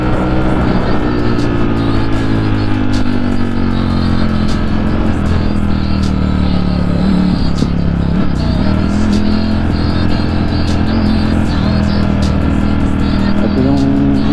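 Heavy road traffic with many vehicles rumbles loudly and steadily around a rider on the way to a lagoon, engines droning and shifting pitch as cars and motorcycles pass close by.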